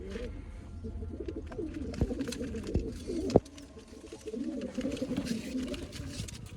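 Several pigeons coo in low, throaty murmurs close by in a loft, overlapping continuously, with a few sharp knocks and taps among them.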